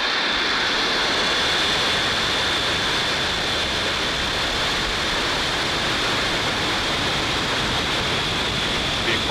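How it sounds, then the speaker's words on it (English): A SpaceX Falcon 9 rocket roars through liftoff, sending a loud, continuous broadband rumble without a break for the whole stretch, with no clear voices over it. "Just full power. And liftoff, OneWeb 3."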